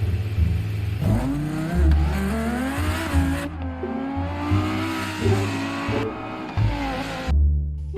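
A toy race car revs in loud, wavering engine-like whines that rise and fall in pitch, with bursts of acceleration and a sharp squealing edge, continuous and close for the whole stretch.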